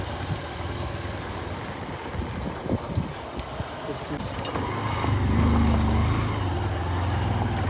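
A car engine labours in low gear up a hill road in the Sahyadri mountains, a steady low rumble under heavy wind buffeting that swells louder toward the end.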